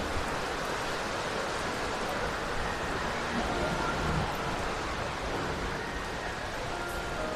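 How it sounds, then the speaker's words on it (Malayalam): Rain falling during a thunderstorm gives a steady, soft, even hiss that continues unbroken at moderate distance, with no clear voices over it. "വീണ്ടും മഴ."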